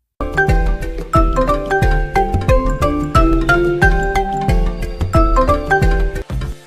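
Asus mobile phone ringtone, a bright melodic electronic tune of quick, evenly spaced chime-like notes with strong bass, playing loud and clear without a pause for about six seconds.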